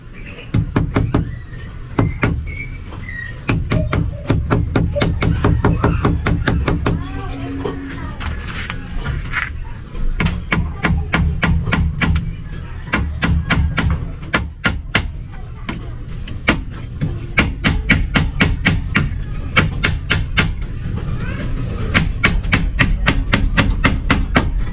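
Hammer blows drive nails into a workpiece in a long run of sharp, repeated strikes, some quick and some spaced, close and loud over a low steady hum.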